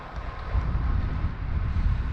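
Wind buffets the microphone while riding along beside the Lincoln water railway near Woodhall Spa, a steady low rumble with gusty swells, loud and continuous throughout, no one talking.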